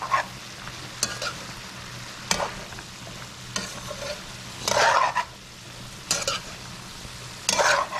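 Bora fish, shrimp and potatoes fry in a pan with a steady sizzle, broken by several loud bursts of hissing and scraping as the pieces are stirred and turned.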